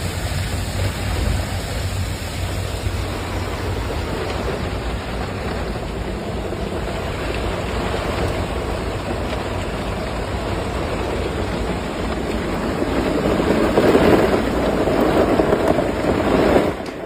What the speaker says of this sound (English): Il y a mon camping-car qui est secoué par la tempête.